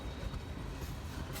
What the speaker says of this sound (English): This is a tank car.